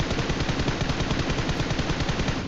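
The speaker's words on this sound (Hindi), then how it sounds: "और अगेन फायरिंग करता हूँ मैं" Rapid automatic gunfire in a battle royale shooter, dense continuous bursts filling the whole stretch, loud and close with no talk.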